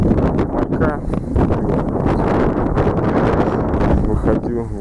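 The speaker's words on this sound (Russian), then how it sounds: "Выходит, бьет ветер северный, порывистый" Gusty north wind buffeting the microphone beside the Zheleznitsa river in Tula region while fishing, loud rumbling blasts that surge and ease continuously.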